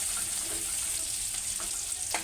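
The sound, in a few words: cumin and garlic frying in oil for dal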